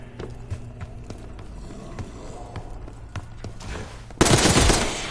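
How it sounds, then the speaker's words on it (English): Gunfire in the Call of Duty Black Ops 6 campaign, heard first as scattered, distant-sounding shots, then a sudden loud burst of rapid fire near the end. "You hearing gunfire? Yeah. Sounds like it's coming from one of the lower floors."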